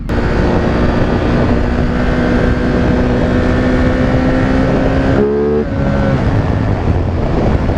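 Steady, loud engine drone from a 2017 Ducati Multistrada 950 motorcycle while riding, with wind rush throughout and a rising pitch sweep near the end as the rider shifts gears.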